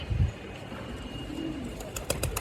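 Racing pigeons, both hens and cocks, coo softly at close range with a low throaty burst at the start, over faint background noise and a few light clicks near the end.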